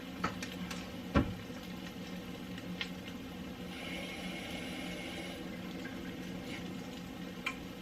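Water running in a home kitchen, likely filling something to heat, a steady, moderately quiet splashing wash with a few small clinks and knocks around it.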